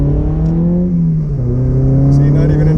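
A Honda S2000 engine pulls smoothly under acceleration at moderate revs, a steady close engine drone heard from inside the car.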